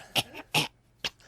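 A person mimics a rasping potato famine cough: three short, harsh bursts in quick succession, close and fairly loud, with quiet gaps between them.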